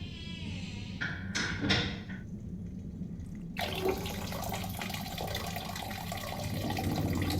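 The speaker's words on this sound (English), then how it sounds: "Sounds like the shower is playing up." Water running from a shower that is playing up, a steady hissing flow that starts abruptly after a few short knocks and clunks, continuing at an even level close by.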